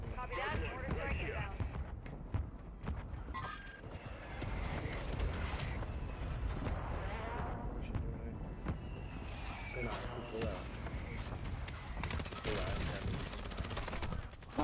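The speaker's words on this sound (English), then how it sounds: "Requesting ordnance, position marked. Copy that, mortar strike inbound." Mortar strike landing in an online military shooter video game, a dense run of blasts and gunfire rumbling loud throughout, with game voice radio chatter mixed in.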